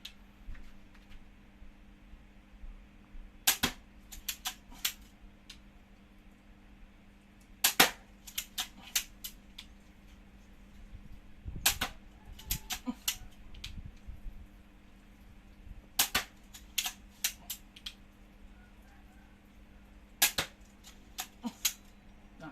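A magazine-fed crossbow fires in rapid bursts at a water bottle target, sharp snapping shots coming in quick clusters of two to four, spaced by short pauses over a low steady hum.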